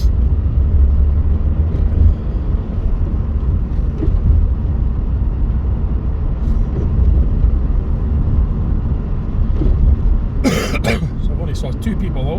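Skoda Octavia climbing Spade Drive at night in Scotland, a steady loud engine and road rumble heard from inside the cabin, with a short burst of cough or throat clearing near the end.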